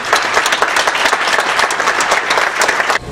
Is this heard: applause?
yes